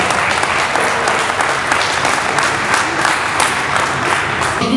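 Sustained, dense applause from a crowd at a youth sports school event honoring coaches after a series of bouts, loud and steady throughout.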